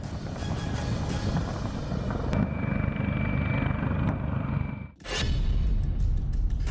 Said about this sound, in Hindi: कमोव 52 एक अटैक हेलीकॉप्टर है।